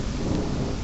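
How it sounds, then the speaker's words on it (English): Steady heavy rain pours down in a dense, continuous hiss, with a low rumble of thunder rolling underneath throughout. "Holy son of a crap. It is raining. It's raining."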